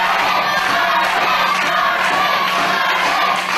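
A wrestling crowd cheers and shouts steadily through a 2005 match between Drew Galloway and Steve Mulligan, a dense, continuous roar of many voices with no pauses.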